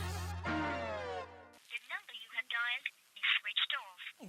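A telephone dialed to call someone back in a Hindi TV comedy scene: a burst of speech, then a run of short electronic tones in quick uneven succession, close and clear.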